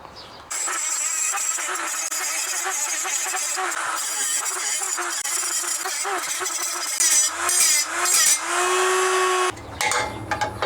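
Power tool grinding rivets off GX460 skid plate brackets, a steady loud high-pitched whine running nearly continuously for about nine seconds, then rising in pitch with brief bursts before cutting off.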